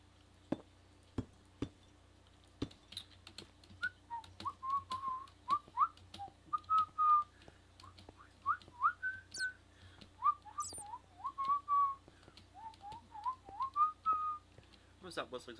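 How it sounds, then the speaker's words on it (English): Someone whistles a wandering tune in short, quiet phrases, accompanied by scattered sharp clicks and taps nearby. "I'm gonna stop whistling, because I know it's annoying to listen to"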